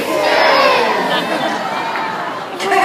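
A crowd of children at Taronga Zoo yells "whiskers" together in one loud, sustained collective shout lasting a few seconds, bright and noisy with many young voices overlapping.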